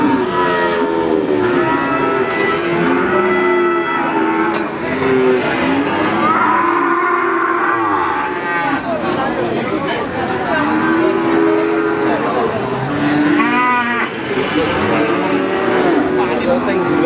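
Cattle at a livestock market in Pati, including Limousin bulls, moo repeatedly in long low calls over a constant crowd murmur and chatter, some near and some farther off.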